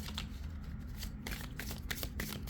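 Tarot cards being shuffled by hand, a quiet, close stream of rapid papery riffles and soft flicks with no voice over it.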